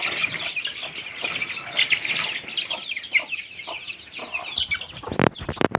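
A hen clucks near her chicks in a small farm pen, repeated close, uneven clucks and calls, ending with a brief burst of flapping wings.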